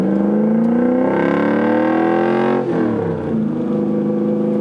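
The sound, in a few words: hot rod car engine revving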